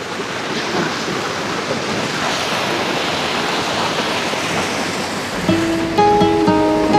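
A river in Sitio Imus, Kastila, Alfonso, Cavite, rushing as a steady broadband wash of flowing water mixed with wind buffeting the microphone, with some faint tonal sounds appearing near the end.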